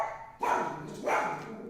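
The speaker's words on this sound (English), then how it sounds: "my dog does not like it when people walk by our front yard" A dog barks twice at people walking past the front yard, two loud, close, harmonic barks about half a second apart with a short pause between them and no talking.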